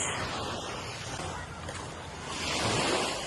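Surf washes onto a beach on a Philippine island in a steady, broad roar with wind buffeting the microphone, swelling a little louder toward the end.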